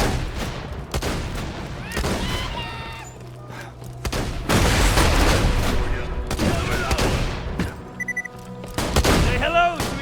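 Rapid bursts of gunfire from the video game Borderlands 2, loud and dense, with repeated volleys and booms running through the whole clip and a voice talking over parts of it.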